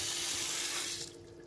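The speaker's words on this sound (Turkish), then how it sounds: "Üzerine de biraz su ilave edeceğim." Tap water runs steadily into a cooking pot in a home kitchen, a close rushing splash that thins out and stops after about a second.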